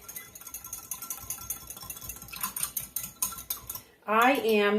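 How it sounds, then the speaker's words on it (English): A small mini whisk beats salad dressing in a bowl for a buckwheat salad, a quick run of light metallic clinks and scraping taps against the bowl, close and steady, before a voice begins speaking at the end. "we'll get our little mini whisk, and we'll whisk this little guy up"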